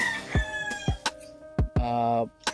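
Female turkeys close by give short warbling, gobbling calls, broken up by sharp thumps and handling noises.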